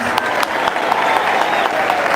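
A church hall audience claps for a priest in a short, dense burst of applause that stays even from start to finish.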